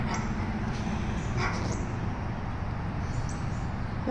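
A dog up a hill yips and barks in short, high, distant bursts over a steady outdoor hiss, faint and scattered rather than continuous.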